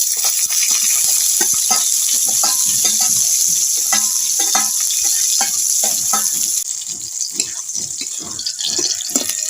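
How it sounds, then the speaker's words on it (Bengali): Onions frying in a pan with green chillies while being stirred, a steady close sizzle with repeated scraping strokes of a spatula throughout. "পেঁয়াজটা ভাজা হয়ে গেছে"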